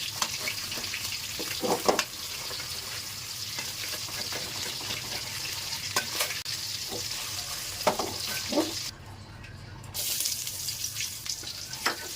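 Fish fries in a wok over a low gas flame, giving a continuous close sizzle broken by occasional stirring scrapes and a brief quieter gap before the frying noise returns.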